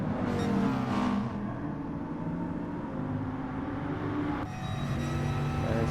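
A race car engine in GT Sport drones steadily and close, with a rising whine early on and a gear change or shift in tone around four and a half seconds in.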